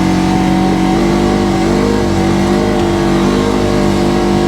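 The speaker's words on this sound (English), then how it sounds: "that's why I'm revving so high" A RZR side-by-side engine revs hard and steadily in deep snow, a loud, close, continuous mid-pitched roar with a sustained droning tone and no talking.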